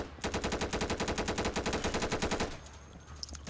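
Rapid video-game gunfire rattles out at about ten shots per second for over two seconds, loud and close, then cuts off and leaves quiet room noise with one faint tick.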